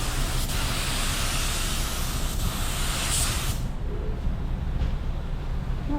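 A DIY paint spray gun spraying in a steady, loud, continuous hiss that cuts off partway through, leaving a lower, quieter background rush.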